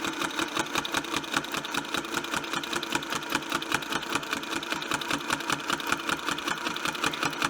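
A sewing machine stitches a quilt along a ruler template with a rapid, steady mechanical chatter that runs unbroken and close for the whole stretch.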